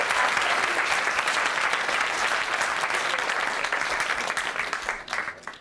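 An audience at a university startup pitch night applauds: a sustained, dense wash of clapping from a full room, steady throughout and tapering off slightly at the very end.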